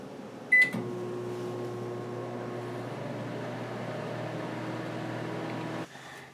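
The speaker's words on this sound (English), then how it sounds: "pop it back in the microwave for 7 minutes." A single beep, then a microwave oven starts and runs with a steady droning hum for several seconds before stopping abruptly.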